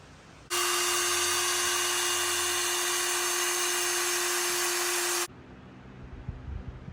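A power drill bores holes in a brand new Halibrand sprint wheel for a '32 Ford roadster hot rod, a loud, steady high whine running about five seconds before cutting off abruptly.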